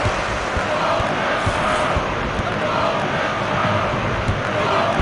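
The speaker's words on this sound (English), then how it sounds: "Quite a noise coming from the crowd here." A stadium crowd roars after a goal in FIFA 2002 during a World Cup 2002 qualifier with Poland, a steady, loud wash of cheering and chanting that holds without break throughout.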